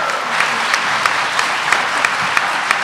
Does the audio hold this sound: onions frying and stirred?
no